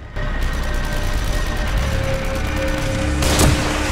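Sustained gunfire in the survival horror game The Evil Within, a loud, dense barrage of shots running continuously under steady game noise, with a louder burst near the end.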